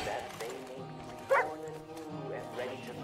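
A dog barks once in the Far Cry 5 video game, a sharp mid-clip yelp over continuous Finnish chatter from players and game sound.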